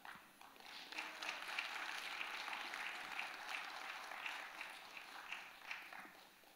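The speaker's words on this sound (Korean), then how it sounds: "큰 박수로 맞이해 주시기 바랍니다." A church congregation applauds to welcome a missionary at an early-morning service, a steady, faint and distant wash of clapping lasting several seconds with little talk.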